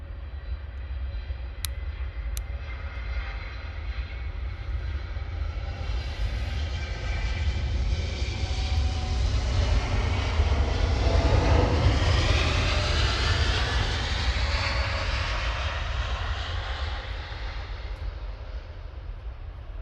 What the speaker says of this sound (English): Let's go for the 787 Dreamliner